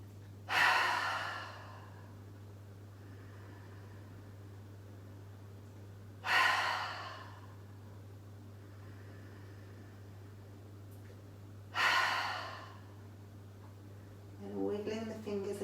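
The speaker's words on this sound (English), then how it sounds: "3 big breaths in through the nose and sighing the breath out through the mouth." Three deep breaths drawn in through the nose and sighed out through the mouth during a yoga cool-down, evenly spaced about five seconds apart and close, over a steady low hum, with a brief voice at the end.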